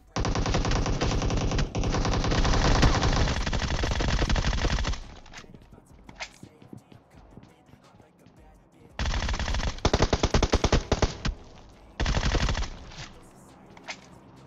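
Sustained bursts of AWM and Groza gunfire in the PUBG Mobile video game: a long loud volley, then quieter scattered shots, then two more dense bursts of rapid fire close to the listener.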